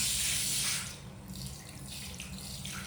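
Tap water runs steadily during a cat's bath, loud at first and then softer and more splashy, with no talking over it.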